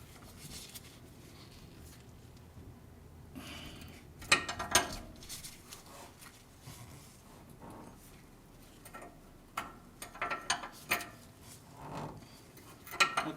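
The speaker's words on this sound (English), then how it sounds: "hold this in place while you loosen this nut" A wrench clicks and ratchets while loosening a sway bar end link nut on a 1980-1996 Ford Bronco, with short metallic bursts spaced through the quiet, close by and fairly faint.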